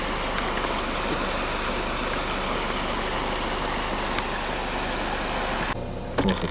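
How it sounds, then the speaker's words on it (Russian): A small river in Karelia rushes steadily, a dense, even wash of flowing water that stays constant throughout before cutting off abruptly near the end. "И еще Карельская речка."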